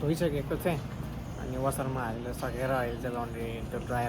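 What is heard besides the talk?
None of the usual background noises is heard.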